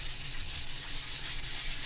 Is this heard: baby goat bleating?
no